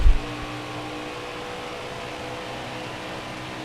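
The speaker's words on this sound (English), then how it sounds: "That engine is humming at the end of the straightaway" A NASCAR race car engine in the NASCAR Heat 4 video game holds a steady, droning hum at speed on a straightaway, with a short thump at the start and no voices.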